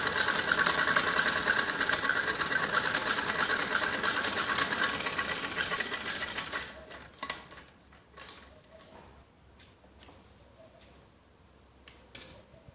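A sewing machine stitches a fabric strip laid on a lining strip for a child's skirt, running in a steady, dense whir for about six seconds, then falling to quiet handling clicks and light taps.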